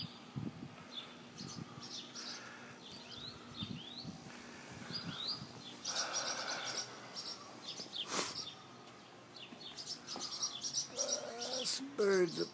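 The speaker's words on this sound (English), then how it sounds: "Some birds up there." Birds chirping and tweeting outdoors among light ambient noise, scattered calls throughout with a few louder chirps near the end.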